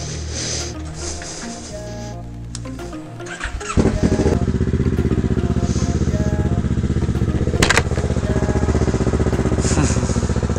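A Kawasaki motorcycle engine starts and settles into a loud, close, steady rumbling idle and revving as the rider prepares to set off, with no talking.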